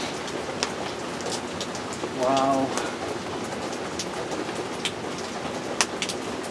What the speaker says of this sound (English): It's going to be downpour thunder, slack off, downpour thunder, slack off.